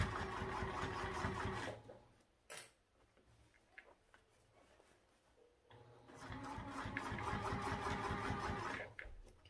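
A sewing machine stitches a seam in two steady runs of rapid mechanical whirring, close and fairly loud, broken by a quieter pause with small handling clicks in between.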